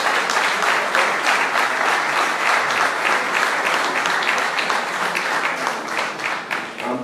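Sustained audience applause at a debate on the future of the CFA franc in Cameroon, a dense, steady clapping that fills the whole stretch at even loudness with no talking over it.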